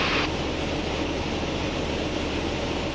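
A small airplane on its landing approach with full flaps slows down, filling the scene with a loud, steady roar of engine and rushing air that holds constant throughout.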